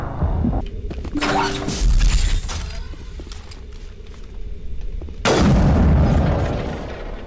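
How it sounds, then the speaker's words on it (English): Gunfire and explosive booms in the sci-fi shooter Mass Effect, sharp loud bursts near the start and a heavy blast around the five-second mark, with scattered smaller combat noises between. "Fire the gun!"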